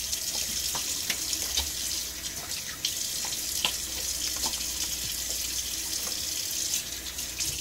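Tap water runs steadily into a bathroom sink while a safety razor is rinsed during a wet shave, a close, continuous splashing with small knocks and clatters.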